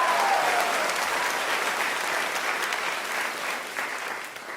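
Audience at a 2024 high school baccalaureate ceremony breaks into steady, moderately loud applause, a continuous crowd of clapping hands that holds for several seconds and tapers slightly near the end.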